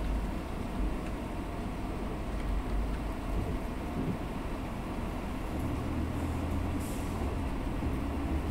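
Continuous rumbling train motion in the video game Choo-Choo Charles, a steady low mechanical drone with clattering texture and a slight swell near the end, loud and unbroken with no speech.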